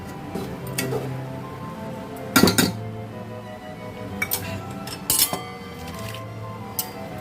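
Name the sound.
stirring rice flour into water in a pot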